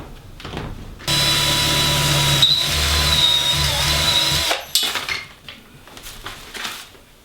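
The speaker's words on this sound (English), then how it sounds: "that's where I'm going to drill the hole in the back" A power drill whirs steadily for about three and a half seconds drilling a hole in a wall, pitch dipping briefly midway, followed by scattered clicks and handling noises.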